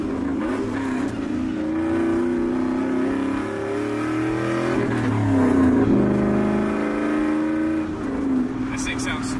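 An LS V8 truck fitted with a Speedy's Resonator exhaust drones and revs, its deep harmonic tone rising and falling under someone talking throughout.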